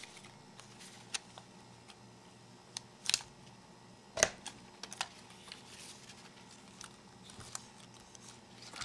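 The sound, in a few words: cutting 16mm film leader on the diagonal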